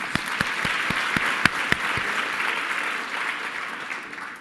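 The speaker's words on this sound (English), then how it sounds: "So again, give them a round of applause." A conference audience at a policy meeting's opening remarks gives a round of applause, dense steady clapping with a few sharper nearby claps early on, fairly loud and sustained before slowly easing off.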